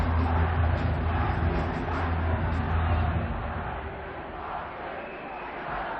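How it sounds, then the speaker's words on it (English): Crowd noise at a varsity ice hockey game in Nottingham, a loud rumbling roar of cheering spectators in the arena that eases slightly toward the end. "The crowd is absolutely phenomenal."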